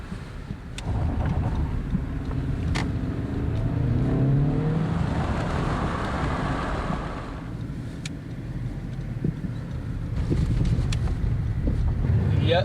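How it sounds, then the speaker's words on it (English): A small Honda Civic drives along an unpaved road of questionable quality, its steady engine and road rumble mixed with wind buffeting and occasional clicks and knocks, continuous and fairly loud throughout. "I've gotta drive down about 15 miles of unpaved roads with probably questionable quality"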